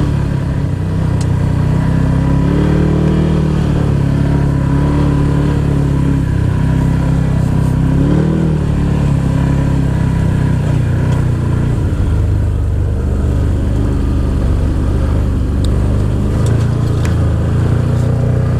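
An ATV engine runs steadily throughout a solo ride on unfamiliar back roads near a border lookout, a continuous close droning hum with a couple of brief rises in pitch as the throttle shifts.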